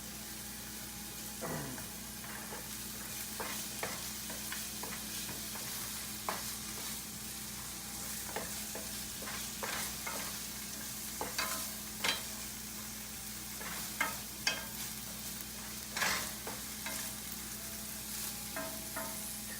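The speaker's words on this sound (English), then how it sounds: "we're just gonna saute these until the meat crumbles, or it's meat substitute" Garlic and vegan meat substitute sizzle steadily in a pan, a constant soft frying hiss broken by scattered scraping stirs and pops.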